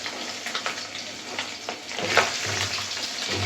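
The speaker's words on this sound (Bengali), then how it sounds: "আমাদের মাছ ভাজা হয়ে গেছে, তুলে নিতেছি।" Pabda fish fry in hot oil with a steady, close sizzle and crackle, broken by a few clinks and stirring scrapes of a utensil in the pan.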